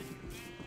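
A Minecraft sheep lets out one short, steady bleat, close and fairly quiet, with no talk over it.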